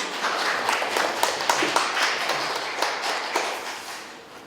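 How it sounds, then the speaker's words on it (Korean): Audience at a Korean community forum claps for the next presenter, a steady, moderately loud patter of many hands lasting several seconds and fading slightly at the end, with no talk over it. "다시 한번 큰 박수 부탁드리겠습니다"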